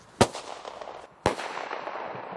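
Two sharp fireworks launches, about a second apart, each a loud bang followed by a fading crackling tail.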